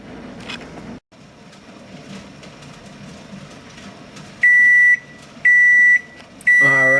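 A kitchen timer set for boiling a canning pot of blueberry pie filling sounds three loud, steady electronic beeps near the end, following several seconds of low kitchen rumble.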